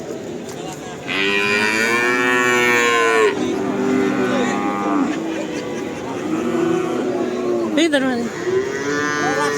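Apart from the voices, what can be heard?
Pegon cattle mooing at livestock market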